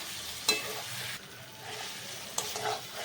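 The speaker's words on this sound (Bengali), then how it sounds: "আর দিয়ে দেবো ভেজে রাখা আলু দিয়ে 2 মিনিট মতো আমি একটু নেড়ে চেড়ে নেব" Spiced chicken curry with fried potatoes being stirred in a hot pan, soft sizzling with two sharp spoon scrapes against the pan, close and fairly quiet, no talk.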